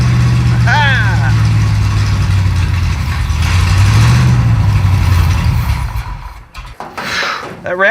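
A 1937 Pontiac engine in a junkyard, running with only about 10 degrees of timing: a loud, rough low idle that surges, then sputters and drops away near the end before catching again, with people talking over it.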